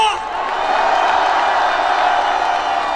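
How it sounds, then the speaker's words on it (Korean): A large crowd at an outdoor political rally roars with sustained, loud cheering and shouting, a dense continuous wall of voices throughout. "또 우리의 함성이 들리십니까?"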